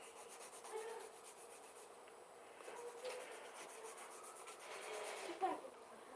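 Acrylic nails are filed with a nail file in quick, repeated scratchy strokes, a faint close-up rasping with slight swells in intensity and no talk.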